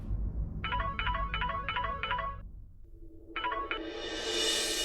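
A phone ringtone plays in five quick repeated bursts, pauses, then starts again as a rising hiss builds; loud and close.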